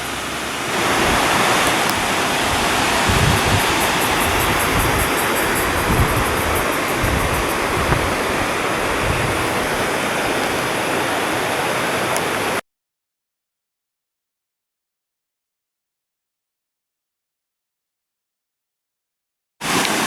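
Leura Cascades waterfall in the Blue Mountains pours as a loud, dense broadband rush of falling water, steady and close, before cutting abruptly to silence and briefly returning at the end.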